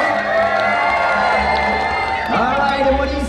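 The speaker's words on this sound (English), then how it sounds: "you guys are going to be cheering on the blue team" A crowd at a SeaWorld Orlando show cheers and whoops for the blue team, a loud, sustained mass of voices with children shouting, rising in a swell near the end.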